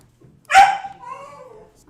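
A single dog bark, close and sharp, trailing into a short whining tail in an otherwise quiet room.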